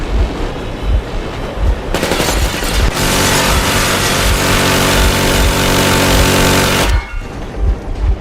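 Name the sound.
warning gunfire from a video game (Metro Exodus)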